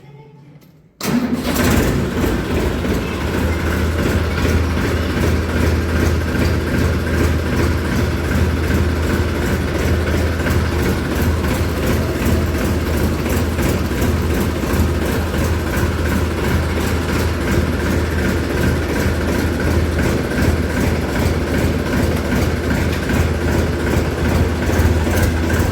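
A tractor engine bursts into life after a brief quiet moment, then runs loud and close with a steady, unbroken rumble for over twenty seconds.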